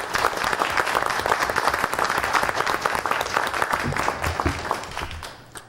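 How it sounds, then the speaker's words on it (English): At a school board meeting, the audience applauds a state champion wrestler with a loud, continuous burst of clapping from a crowd that stays strong and fades only at the very end. "I think we should give him another round of applause"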